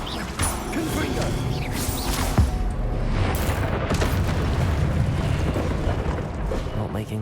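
The Confringo explosive spell blasts away in the game Hogwarts Legacy, with repeated booming crashes and rumbling impacts layered among combat noise, while a voice talks over it.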